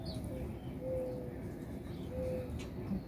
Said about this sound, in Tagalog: May isa pa nga ibon dun eh.